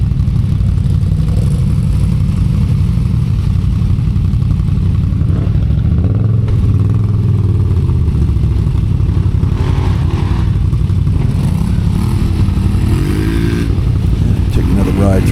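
A Kawasaki Brute Force 750 ATV engine churns through mud on Nova Scotia terrain, loud and close, its note rising and falling with revs while other riders' engines and voices mingle in the background.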